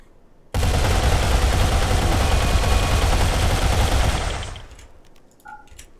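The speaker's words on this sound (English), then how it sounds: "So we're just going to go over and shoot it in the face" Rapid automatic gunfire in the video game Rimworld, aimed at a lynx: a loud, dense, continuous burst of shots lasting about four seconds before fading out, with no talking.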